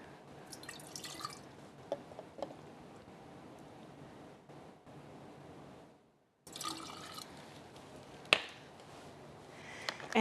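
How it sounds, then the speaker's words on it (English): Hydrogen peroxide is poured from a quarter-cup measure into a tall vase or jar in two fills, giving a quiet, close trickling and splashing of liquid, with a brief silent gap between the pours. "you want to add 1/2 cup of peroxide to your tall vase or jar"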